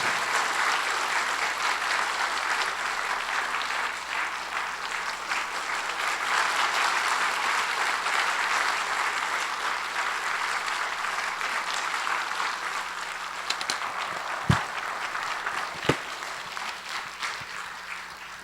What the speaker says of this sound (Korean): 우리 힘차게 한번 박수 한번 쳐주세요.